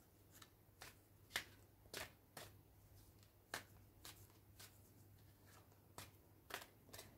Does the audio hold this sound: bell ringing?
no